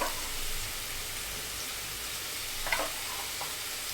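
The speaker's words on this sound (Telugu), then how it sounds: "ఉల్లిపాయ ముక్క తొందరగా వేగుతుంది సాల్ట్ వేయడం వల్ల" Onions sizzle and fry in a pan with turmeric and salt. The hiss holds steady at moderate volume, with a few brief crackles and pops near the end and no talk.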